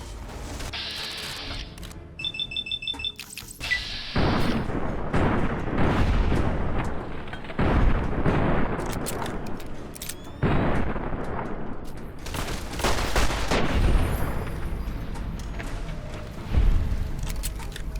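Service rifle gunfire in Fallout: New Vegas: loud, repeated shots and booming impacts in bursts across the clip, with a brief electronic beeping near the start.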